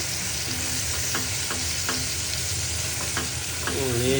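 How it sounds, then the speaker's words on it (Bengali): Spice masala for a kuche eel fish curry frying and being stirred in a pan, a loud continuous sizzle with repeated spatula scrapes at a steady rhythm, close up and with no talking. "মুড়ি মশলাটা দিয়ে দিলাম মশলাটা কষাই"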